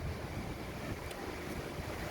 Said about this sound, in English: You're going to walk past this nice, beautiful water fountain